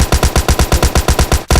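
Rapid automatic gunfire in PUBG mobile on iOS, about a dozen loud, evenly spaced shots in a fast burst that ends abruptly, then one more shot.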